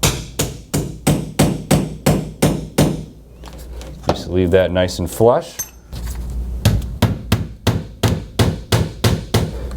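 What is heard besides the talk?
hammer and nail set face nailing shiplap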